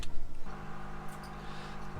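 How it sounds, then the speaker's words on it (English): An electric cool box running on a narrowboat's power supply gives off a steady low whir with faint hum, constant and close, starting just after a brief initial rustle. "The whirring noise you can hear is our cool box that I've just turned on."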